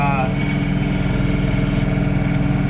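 A John Deere 3046R cab tractor engine runs steadily at 2500 RPM, a loud, even throbbing drone, with a brief voice at the very start.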